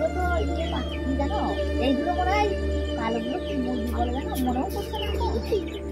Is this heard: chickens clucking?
yes